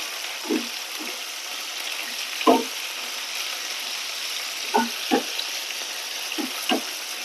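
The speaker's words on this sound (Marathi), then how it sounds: "थोडक्यात आता ही पण शॅलो फ्राय झाली आहे." Okra (bhindi) shallow frying in a pan gives a soft, low sizzle punctuated by a handful of brief spatula scrapes and clinks at irregular intervals, with no speech.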